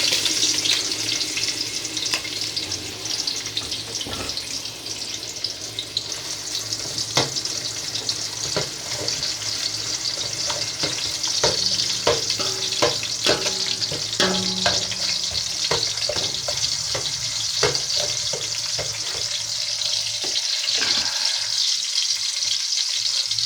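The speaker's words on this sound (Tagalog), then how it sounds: "Ito, at meron na akong ininit na kasirola at saka may mantika na po yan. Gigisaw po natin yan." Food sizzles and crackles in hot oil in a casserole pot, a loud continuous frying hiss broken by scattered clinks and stirring scrapes, easing toward the end.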